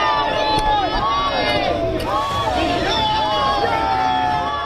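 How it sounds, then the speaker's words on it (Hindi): A large crowd gathered at Joint Base Andrews near Washington, D.C. to welcome Prime Minister Modi, a steady loud wash of cheering, shouting and many overlapping voices that continues throughout. "जहां पर पीएम मोदी के स्वागत के लिए भीड़ लगी हुई थी।"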